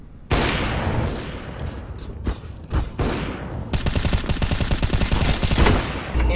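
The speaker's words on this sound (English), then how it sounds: "You should shoot that gun." Video game gunfire: dense bursts of rapid automatic shots that become a continuous rattling fusillade near the end, loud and close.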